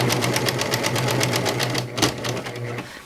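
A serger sewing machine runs steadily, stitching pillow fabric with a fast, even mechanical whir and rapid needle rhythm close by, easing off briefly near the end before resuming.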